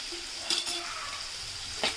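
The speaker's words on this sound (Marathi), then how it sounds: "आपल्याला गॅस स्लो ठेवूनच कांदा पूर्णपणे शिजवून घ्यायचा आहे" Onion cooking in oil on a low gas flame, a gentle steady sizzle with a couple of brief louder stirring scrapes against the pan.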